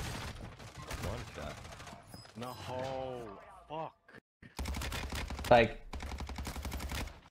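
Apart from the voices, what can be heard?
sniper gunfire in Warzone 2 kill cam, video game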